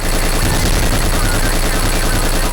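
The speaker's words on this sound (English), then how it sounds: "you could literally just shoot everywhere, and every single bullet has an effect" Dense, continuous automatic gunfire from the 2006 shooter game BLACK, loud and close, with overlapping rapid shots and impacts forming an unbroken barrage for the whole stretch.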